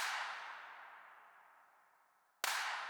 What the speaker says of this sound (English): for that clap, I did end up sending it to a Hall verb with a really long decay time